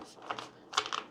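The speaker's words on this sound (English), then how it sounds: "Let's go ahead and shuffle the deck here and see what we have." A tarot card deck is shuffled in a brief, close burst of soft papery riffling and flicking, two quick flurries in a quiet room.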